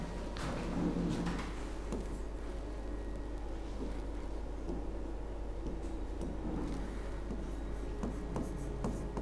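Pen writing a definition on paper or board during a Hindi prosody lesson, steady scratchy strokes with small taps and pauses over a constant low hum, close and moderately loud, no talking.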